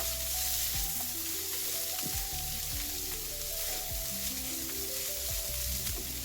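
Cabbage stir-fries in a hot pan for a paper roll filling, a steady loud sizzle broken by repeated scraping stirs of a spatula.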